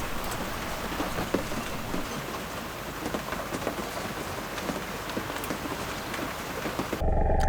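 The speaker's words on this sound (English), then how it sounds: "Leaving in the rain is very demotivating." Steady rain falls throughout on a sailboat in Madeira, a dense patter on hard surfaces with scattered louder drops, continuous and fairly close, with no voices.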